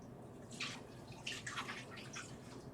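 Water is poured into a dye bath with white vinegar, making a soft, close splashing trickle in several short bursts over low background noise.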